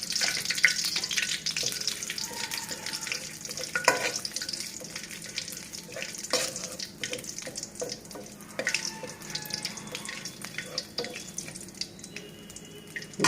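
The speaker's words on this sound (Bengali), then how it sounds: "তেলে আমি তেজপাতা, লবঙ্গ আর দারচিনি দিয়ে দিলাম" Bay leaves, cloves and cinnamon sputter in hot oil as pigeon curry begins, a soft, fairly quiet sizzle with intermittent clinks and stirring, plus a trickling watery hiss in the background.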